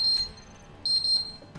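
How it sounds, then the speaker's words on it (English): Electronic alarm in the game Space Engineers: two bursts of rapid high-pitched beeps separated by a short pause, clear and alone. "Ignore that beeping."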